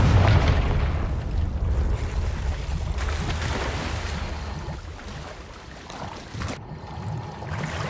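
Blasting-spell explosions in the Hogwarts Legacy video game on PS5: a loud, booming burst that rolls off into a long rumbling decay, then a second softer blast near the end, with no talking.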